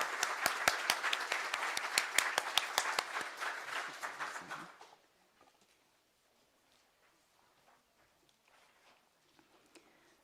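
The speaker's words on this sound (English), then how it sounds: "Let's give them another big round of applause." A crowd applauds with dense, lively clapping for about five seconds, then it quickly dies away to near silence with a few scattered claps.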